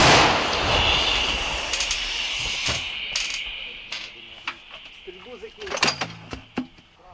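A heavy L119 howitzer boom with a long rumbling tail, followed by scattered clanks and knocks as soldiers talk in the background.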